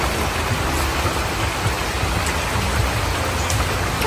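Steady, heavy rain falling on a rainy, windy day, a loud, continuous hiss of drops on surfaces with no break throughout.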